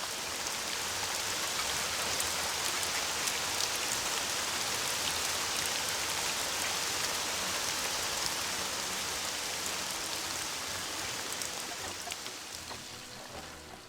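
Steady rain pours throughout a scene in the city-building game Caesar IV, a dense, even hiss of falling drops with no talking, easing slightly toward the end.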